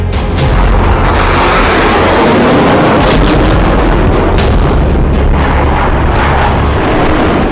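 Bombs explode during an Indian Air Force exercise at the Pokhran field range in Rajasthan, a loud, continuous rumble of overlapping blasts with repeated sharper booms throughout, and no speech.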